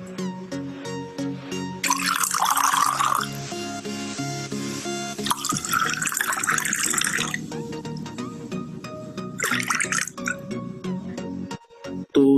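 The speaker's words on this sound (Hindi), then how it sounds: "हम लोग दोनों ग्लासेस में थोड़ा थोड़ा पानी डालते हैं।" Water is poured in small amounts into two glasses, in a few bursts of splashing, trickling fill several seconds apart over a faint background hum.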